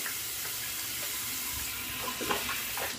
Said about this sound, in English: Hang on, let me rinse my face.